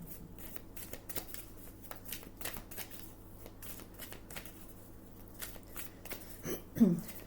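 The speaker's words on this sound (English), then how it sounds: "These are quite big cards to shuffle" Large oracle cards are shuffled repeatedly, giving a soft ongoing patter of riffling and sliding, close and fairly quiet, with no voices.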